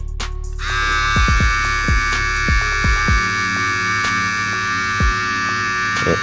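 A VGR V115 cordless hair clipper motor hums steadily at a high pitch, close and even, with a few low knocks and clicks of handling.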